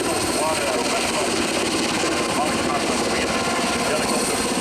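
A Belgian Air Force Westland Sea King Mk.48 helicopter, powered by two 1660 hp Rolls-Royce engines, flies a rescue demonstration at the Sanicole airshow. Its steady, loud rotor and turbine roar continues without a break while a commentator talks over it.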